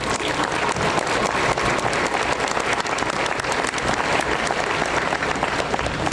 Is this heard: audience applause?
yes